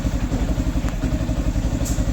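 A motorcycle engine, just started, runs steadily up close with a fast, even low-pitched throb and a slight mechanical clatter, loud and continuous with no speech over it.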